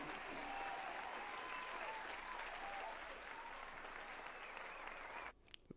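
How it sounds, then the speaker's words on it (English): A live audience claps in a loud, continuous burst of applause that stays steady for over five seconds, then cuts off abruptly into near silence. "Let's get a round of applause."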